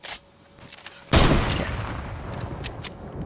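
A single loud blast in a video game battle is followed by a rolling rumble of gunfire that tapers into scattered cracks, preceded by a brief quieter shot, with no voices.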